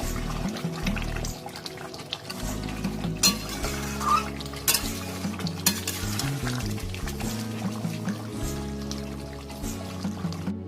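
Goat mutton stir-fried in a kadai as its released juices cook down, with steady sizzling and scraping stirs close by beneath continuous tonal background music.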